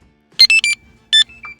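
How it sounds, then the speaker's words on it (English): A Traxxas battery charger gives a short series of electronic beeps on start, three quick tones, a pause, then two more softer ones, close and clear with no talking. "So when we do that, you hear the beeps."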